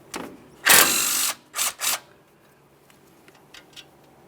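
Ratchet clicking while a 10mm mounting bolt comes off a flex hose bracket on the front steering knuckle of a 2015-2020 Ford F-150 3.5L V6, with one long burst of rapid clicks and then two short bursts, close and loud, no talking.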